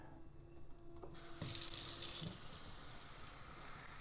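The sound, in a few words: water poured into container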